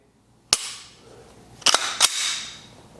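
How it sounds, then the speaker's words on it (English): A new Glock pistol gives three crisp, close metallic clicks as its trigger is pulled and reset: one single click, then a quick pair a moment later, each ringing briefly in a quiet room. "Then hit that trigger again"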